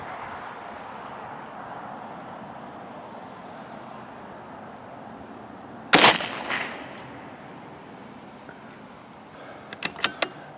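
Rifle firing slugs at a 50-yard target outdoors: one sharp loud report cracks out after a stretch of steady outdoor background, followed by a few smaller clicks and knocks near the end.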